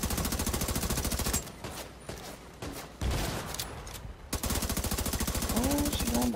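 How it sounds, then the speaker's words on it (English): Rapid automatic gunfire in a video game raid, dense continuous bursts that break off briefly in the middle and then resume at full loudness, close and steady. "I'm gonna shoot the right side"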